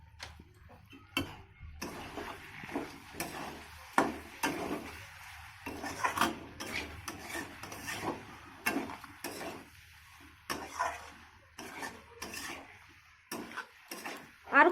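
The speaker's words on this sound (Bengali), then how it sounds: "জিরার গুঁড়িটা দিয়ে লো ফ্লেমে এইভাবে আমি মশলাটাকে কষিয়ে নেবো 1 মিনিটের মতো।" Cumin powder masala being stirred in a pan over a low flame, with a steady run of scraping clinks of a spoon against metal, close and moderately loud, pausing briefly between strokes and with no talking.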